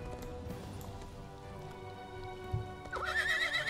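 An imperial horse in The Elder Scrolls Online video game trots with steady clip-clopping hooves under soft game ambience and music, then neighs sharply near the end.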